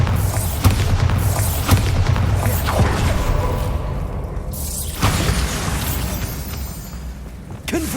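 A Bombarda spell explodes in the Hogwarts Legacy video game as a deep, sustained boom with shattering debris and rumble rolling through the whole stretch. A second blast lands near the end, and a voice is heard briefly.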